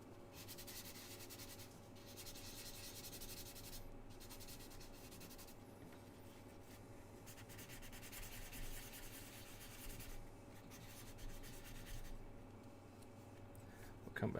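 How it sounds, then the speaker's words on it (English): Sandpaper rubs across parts of an Airfix Hawk model kit in quiet, repeated back-and-forth strokes close by, with occasional pauses and a faint background hum. "let's just take a little sandpaper, clear this down, go for stronger grit"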